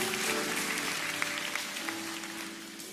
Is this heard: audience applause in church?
yes